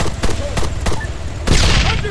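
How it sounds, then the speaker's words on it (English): Repeated game gunfire bursts from a tactical night mission in ArmA, a firefight sweeping through Agia Marina, with shots cracking close and loud and a heavier crashing burst near the end, voices calling out beneath. "Under fire! Enemy fire!"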